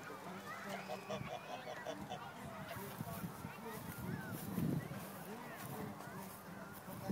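Geese and ducks at the water's edge honk and call repeatedly in a busy, overlapping chorus close by, with a voice and adult talk mixed through the flock noise.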